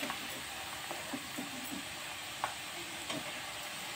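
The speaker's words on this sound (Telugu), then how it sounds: "ఇప్పుడు నూనె వేడైన తర్వాత వేయించుకోవాలి. మంచి కలర్ వచ్చేంత వరకు వేయించాలి." Sliced bitter gourd frying in hot oil in a home kitchen, giving a steady soft sizzle and hiss with occasional faint stirring clinks and light pops.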